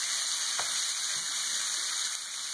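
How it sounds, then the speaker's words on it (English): Continuous hissing sizzle of bacon frying in a pan, a steady crackly wash with a few soft pops, no voices. "You ever just want to sit here and watch bacon sizzle?"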